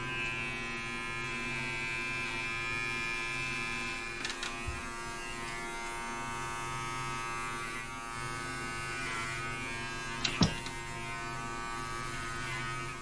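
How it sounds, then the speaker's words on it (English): Electric clippers buzz steadily and close while shaving a goat's hair around an open wound, a constant motor hum with a couple of brief clicks and bumps as the blade moves, no voices. "First thing is I'm going to shave the area so that I can clean it properly."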